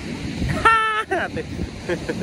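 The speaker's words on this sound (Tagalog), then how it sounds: "malakas yung hangin dito" Strong wind blows at a beach, buffeting the microphone with a low rumbling roar while a person talks nearby and surf-like noise carries underneath.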